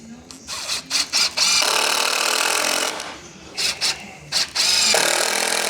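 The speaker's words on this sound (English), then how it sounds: "Temporary screws in here." A power screwdriver driving temporary screws into a timber conservatory roof brace makes short, buzzing whirs in quick succession, then longer sustained runs, close and loud with brief pauses between.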